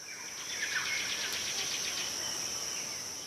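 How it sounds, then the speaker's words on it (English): A dense, steady chorus of high-pitched chirps and trills, likely birds mixed with buzzing insects, fills a wild mountain coffee cloud forest in southwest Ethiopia. It stays continuous and fairly soft, with no voices. "You hear the birds."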